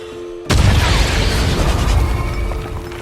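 A movie grenade blast bursts in suddenly after a quiet hum, a loud close boom that rolls on into a long, dense rumble of debris and noise.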